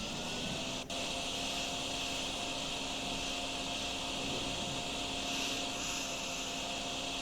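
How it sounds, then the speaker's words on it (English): A vacuum cleaner in the game DrainSim drones steadily as it sucks up standing water, a constant whirring roar with a brief click near the start and no talking. "this vacuum is doing a lot of good work"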